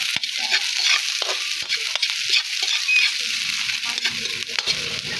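Garlic and onion fry in a pan, with a steady bright sizzle and occasional light stirring taps close by.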